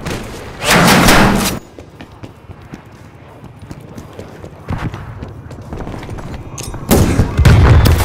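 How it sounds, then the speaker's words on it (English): Frag grenade explosions and gunfire in Call of Duty: Black Ops Cold War burst out as two heavy, loud blasts several seconds apart. Scattered thuds and shots fill the quieter gap between them. "Throwing frag. Got grenade out."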